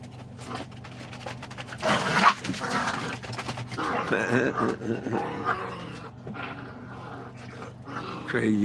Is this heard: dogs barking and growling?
yes